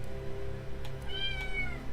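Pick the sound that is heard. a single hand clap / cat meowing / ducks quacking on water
cat meowing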